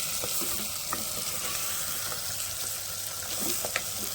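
Mutton bones with ginger frying in a little oil, a steady close hiss with scattered crackles and pops running throughout, no talking.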